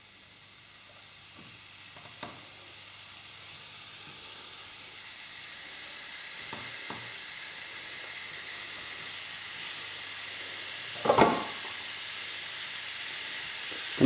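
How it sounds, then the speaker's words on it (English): Lamb chops sizzling in a hot frying pan, a steady broad hiss that gradually swells, with a few faint clinks and one brief louder crackle near the end, no talking. "So the pan's just about heated up, so let's just get those lamb chops in there."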